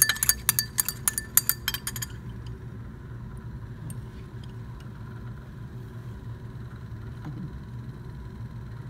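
A rod stirs a toothpaste solution in lab glassware, producing a quick run of bright, close clinks for about two seconds before settling into a low steady background hum.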